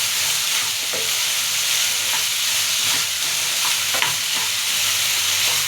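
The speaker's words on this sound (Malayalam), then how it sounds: "അത് ഇട്ടിട്ട് നന്നായിട്ട് അങ്ങ് ഇളക്കുക." Beetroot fried rice is stirred in a sizzling pan, a steady loud frying hiss with repeated scraping and tapping strokes of the spoon, alone without talk.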